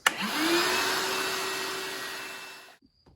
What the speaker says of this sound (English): So I'm going to grab my DeWalt cordless vac here and do that next.